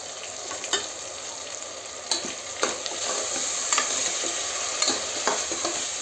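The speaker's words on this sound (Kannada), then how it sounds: "ಈ ಗ್ರೀನ್ ಪೇಸ್ಟ್ ನೋಡಿ ಗ್ರೀನ್ ಪೇಸ್ಟ್ ಇದೆಲ್ಲ ಸೊ ಅದನ್ನು ಹಾಕ್ತಾ ಇದ್ದೀನಿ" Green paste frying with ginger garlic paste in a pot for egg biryani, a constant close sizzle broken by repeated scrapes and knocks of a spoon stirring.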